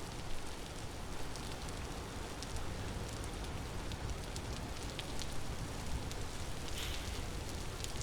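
Steady, dense rain in the survival game Vintage Story, a loud continuous hiss filling the whole stretch with faint crackly drop sounds throughout and no voices.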